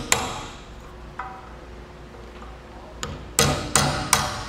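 A hammer strikes a bolt to drive an old bushing out of a double-eye trailer leaf spring, with sharp metallic blows: a few spaced hits, then three loud ringing strikes close together near the end.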